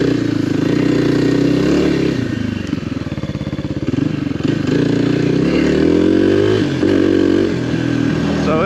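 Kawasaki KLX 300R motorcycle fitted with a 14/47 sprocket, riding in second gear with a steady, close engine drone that chugs and varies slightly in pitch throughout.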